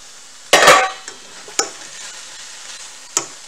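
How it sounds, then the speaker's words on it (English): Food is pushed around a frying pan in a cube steak and cabbage stew, with one loud scraping sizzle and then a few brief scrapes and taps against the pan. "move everything around the pan"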